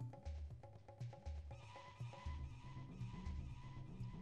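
A horse whinnies in the video game Majora's Mask, a short neigh within repeating game music and rhythmic effects, with no one talking.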